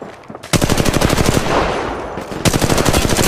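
Rapid automatic machine gun fire in the Apex Legends Mobile video game comes in two loud, close sustained bursts separated by a short pause.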